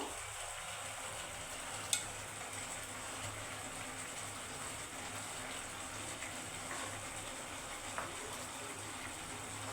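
Bhetki fish pieces frying in a pan for a mustard curry, a low steady sizzle and bubbling under a couple of faint clicks, quiet and continuous.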